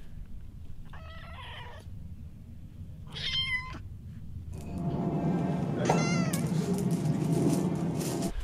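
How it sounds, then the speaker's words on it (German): A kitten meows in a few distinct, plaintive cries, close and clear, with gaps between calls; later a louder, longer yowl rises over a noisier background of rustling and movement. "Unser Kätzchen ist schon mittlerweile unser Familienmitglied, kann man sagen."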